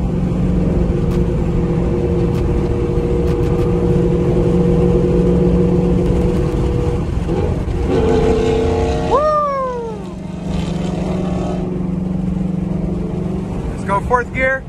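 A 2011 Ford Mustang GT engine hums steadily while driving, then blips and rises in pitch as it rev matches on a downshift, loud and close.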